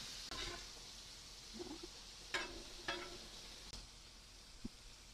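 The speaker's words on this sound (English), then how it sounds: "we're going to get our flat meat on. We want to get a good sear on the outside" Steak sears on a flat-top griddle for fajitas, a soft, steady sizzle broken by a few sharp sputters and brief metallic scrapes of a spatula.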